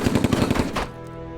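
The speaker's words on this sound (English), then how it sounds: "The HMG is, like, just way better at being an area suppression tool." A heavy machine gun in the Silent Storm video game fires a rapid burst of about eight loud, close shots, followed by a fading ringing tail.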